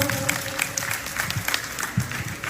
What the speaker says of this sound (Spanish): Que nos escuchan los aplausos,